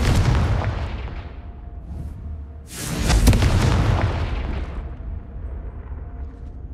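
Confringo fire spell cast in Hogwarts Legacy: a low ambient rumble gives way to a loud, booming blast midway that rolls on and slowly fades.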